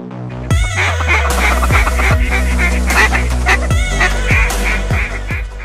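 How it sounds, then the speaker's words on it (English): Mallard ducks flying over a December hunting spot in central Kansas honk and call repeatedly, loud and near, as a steady chorus of overlapping calls with no talk. "We got ducks everywhere. They're just flying around having fun just yet"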